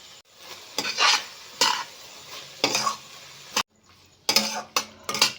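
Red chili sauce, soy sauce, vinegar, tomato ketchup and pepper powder frying in a pan for pasta, with repeated close scrapes and clinks of a spoon stirring against the pan over a soft sizzle, no talk.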